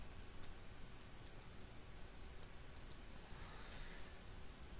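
Soft keystrokes on a computer keyboard tap out a web address in short irregular bursts, faint and close against a quiet room hiss, with no talking.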